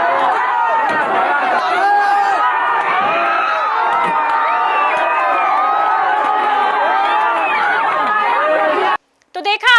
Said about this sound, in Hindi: आक्रोशित भीड़ ने पुलिस पर ही हमला कर दिया